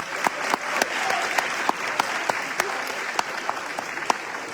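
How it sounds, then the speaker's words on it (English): Audience applause at a high school awareness event, a moderate spread of clapping with a few sharper claps standing out, steady for several seconds at a middle distance. "So let's clap it up for that."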